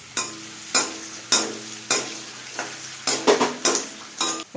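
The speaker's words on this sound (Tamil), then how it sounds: "நெய் சூடானதுக்கப்புறம் நம்ம கட் பண்ணி வச்சுருக்க முந்திரியை சேர்த்துக்கோங்க முந்திரி கொஞ்சம் ஃப்ரை ஆனோடனே திராட்சையும் சேர்த்துக்கலாம்" Cashews and raisins frying in hot ghee sizzle steadily while a spoon scrapes and taps the pan in about eight evenly spaced, close strokes.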